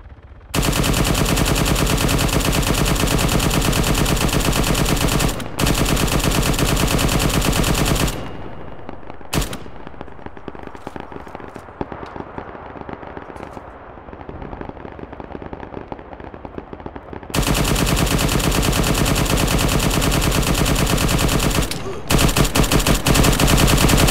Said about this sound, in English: I literally put a whole mag of a 50 cal into him